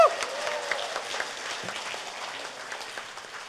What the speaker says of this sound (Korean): 원. 박수. applause.